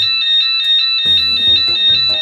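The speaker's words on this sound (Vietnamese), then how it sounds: "xe sẽ tự báo động thế này" A Hyperion anti-theft alarm fitted to a motorbike goes off with a loud, steady electronic tone that pulses in a quick repeating pattern, close and continuous with no talk.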